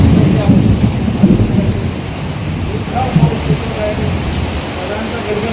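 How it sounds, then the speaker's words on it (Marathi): Pre-monsoon storm with steady heavy rain and low rolling thunder rumbling through, loud and continuous outdoors without any voices. "गडगडाट आणि विजांचा गडगडाट सुरू आहे"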